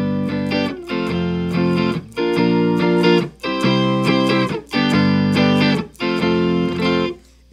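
Electric guitar run through a pedal board set to mimic a 12-string guitar, playing a series of bright, ringing chords in six separate bursts with short gaps between them, loud and clear with no talking.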